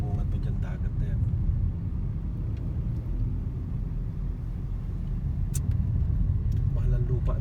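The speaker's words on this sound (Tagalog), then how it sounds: "Kaya lang maraming traffic. Maraming sasakyan." Traffic on a road near Batangas rumbles steadily as a low engine drone heard from inside a moving car, with a voice speaking over it throughout.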